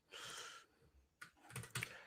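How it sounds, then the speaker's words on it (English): Rapid, frenetic typing on a computer keyboard, heard as bursts of clicks close by with a brief lull between them, fairly quiet overall. "There's a lot of very, very frenetic typing coming out of the other audio channel"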